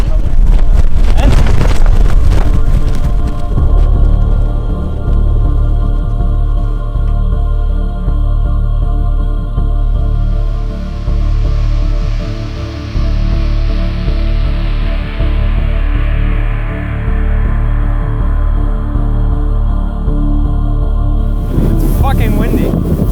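Strong sea wind of 25 to 35 knots roars and buffets the microphone throughout a windsurf foil race, with a steady rumble like open water and a boat underneath, no clear voices.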